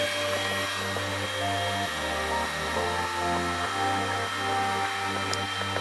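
A heat gun blows steadily close by, warming a 2007-2011 Honda CR-V headlight where the lens meets the housing, its continuous whirring airflow hum shifting pitch slightly as it is moved.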